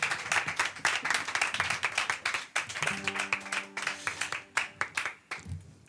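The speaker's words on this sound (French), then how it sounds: "On l'applaudit bien fort." Audience clapping for a singer at an intimate concert, a steady patter of hands that runs throughout, with a sustained instrument note entering partway through and a brief voice near the end.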